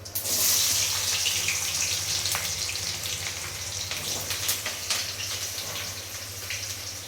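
Onions sautéing in a pan at home, a steady soft sizzle with faint crackles and a low hum running through, no talking.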